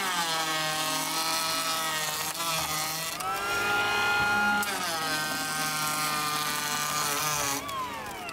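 A cordless electric planer shaves wood on a home addition build, its motor whining loudly in sustained passes with pitch dips as the blade bites, one pass after another and no talking.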